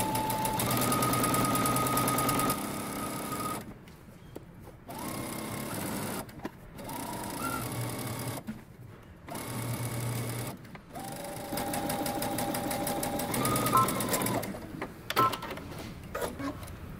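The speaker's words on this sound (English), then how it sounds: "you're going to stitch using 5/8 of an inch seam allowance" A sewing machine stitches a pant inseam in several bursts of rapid, rhythmic mechanical whirring, stopping and starting with short quiet pauses between runs.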